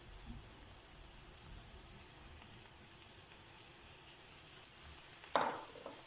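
Soft, steady sizzle of diced pickled cucumbers frying with onion in a pan, a quiet hiss throughout with a brief louder clatter near the end.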